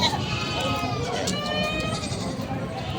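Goats bleat in a wavering, close-up cry on a Philippine farm where they are being fed, the calls rising and falling over loud rustling and background noise throughout.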